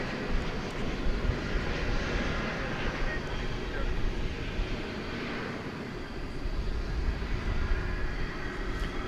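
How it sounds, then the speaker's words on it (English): Airbus A321neo airliner on American flight 1974 from Las Vegas at DFW Airport at night, a broad steady jet engine roar rumbling at moderate distance throughout. "flight 1974, an Airbus A321 Neo"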